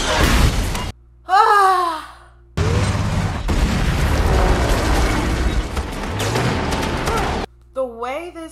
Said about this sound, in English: The way this movie makes the missiles look when they're coming is nuts